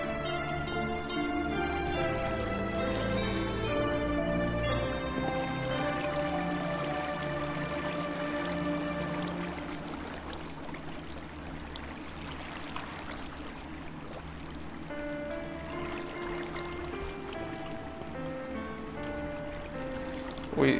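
Water flows down from high above in Minecraft, a steady soft rushing stream under game music that fades midway, continuous and moderately quiet, with no talk.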